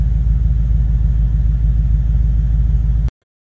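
2016 Ford Mustang GT on a road test, its engine a steady close low rumble with a faint rev throughout, cutting off abruptly near the end.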